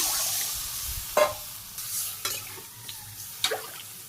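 Water poured onto radish frying in a pan for a cauliflower and soybean curry: a close, loud hissing sizzle at the start eases into a softer simmer, broken by a few sharp stirring scrapes against the pan.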